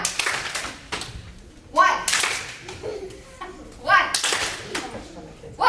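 During a homeschool physical activity workshop, a group of children claps in unison on a called count. Sharp group claps land about every two seconds between an adult's spoken cues.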